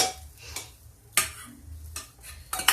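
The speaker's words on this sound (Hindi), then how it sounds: "अब अभी इसको देखिए, गाजर और टमाटर सारा मैश हो रहा है" Tomatoes and carrots being mashed in a pot for tomato soup, with intermittent clinks and scrapes of a utensil against the pot in irregular bursts, fairly quiet and close, with no voices.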